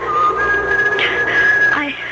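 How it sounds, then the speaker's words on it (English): A lone person whistles a steady, sustained tune in a radio drama sound effect, the thin clear tone holding and then bending between pitches over a soft background hiss. "and then I heard someone whistling"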